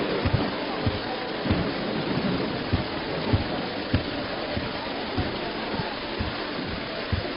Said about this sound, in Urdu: تم تو بارش کو دیکھو جس سے فدان کو قحط سے نجات ملے گی